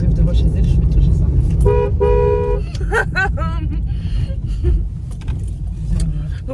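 A car horn honks in a short series of toots outside a house, close and loud over engine idle, with people chatting in French around it.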